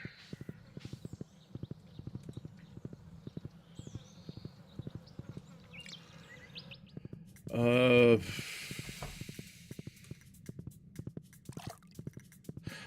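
Horse hooves clip-clop in a steady, even rhythm throughout in the game Stardew Valley, with a brief loud whinny-like burst in the middle and faint background buzzing.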